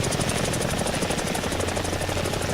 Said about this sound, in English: Now we're doing negative hover, and you can see us slowly bringing the chopper down.